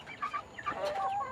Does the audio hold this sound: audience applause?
no